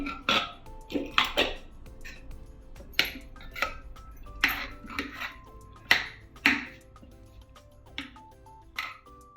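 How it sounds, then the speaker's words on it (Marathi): Lid of a pressure cooker holding cooked mutton being opened, a string of sharp close metallic clicks and clanks in irregular bursts with quiet gaps between. "कुकर थंड झालेला आहे, मी आता उघडते."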